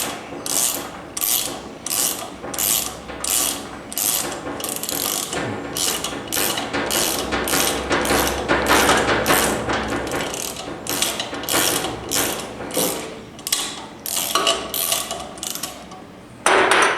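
Steady, evenly spaced bursts of close ratchet clicking as a thread repair tool is backed out of a spark plug hole, continuing rhythmically for a long stretch without speech.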